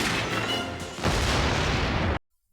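A cartoon bomb in a toy car goes off in a dense, booming burst, a rumbling blast that drops sharply and lingers briefly before cutting to silence.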